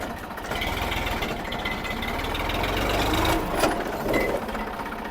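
Rapid chugging idle of an Indo Farm 2035 DI tractor's diesel engine, close and steady, with a brief rise in revs and some rattling near the middle.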